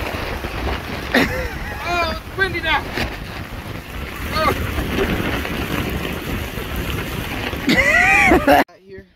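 Gusty wind buffets the microphone on a lake in Voyageurs National Park, a loud, roaring rumble throughout, with people talking over it before it cuts off abruptly near the end.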